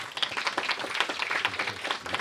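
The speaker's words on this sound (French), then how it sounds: "Je pense qu'on peut applaudir ça." A small audience in a talk-show setting applauds in a brief, moderately loud burst of rapid clapping that carries on evenly for about two seconds.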